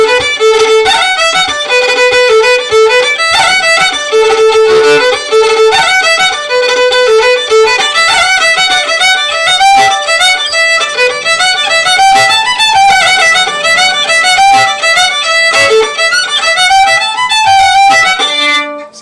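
A lively traditional reel played at full dance tempo, a bright melodic instrument running quick repeating phrases loudly and continuously with no talking.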